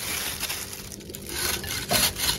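Peeled melon is rubbed against a hand grater in scraping, rasping strokes that rise and fall in a loose rhythm, close and fairly loud, with no voices.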